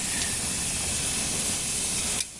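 Duck meat on a grill at 600 degrees gives off a loud, steady hiss and sizzle after being flipped, which drops off suddenly near the end, with no talking.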